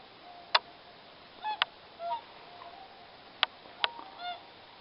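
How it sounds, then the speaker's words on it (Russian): A flock of swans passing low overhead during migration in the Komi countryside, giving several scattered honking calls, a few sharp and close, others softer, over a quiet outdoor background. "Вон прямо над головой летят."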